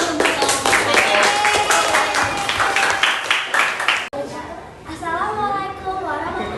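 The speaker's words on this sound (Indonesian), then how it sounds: "beri tepuk tangan dulu untuk kelompok" Pupils in a classroom clap for a group, several seconds of scattered hand claps mixed with voices, followed by a speaker talking.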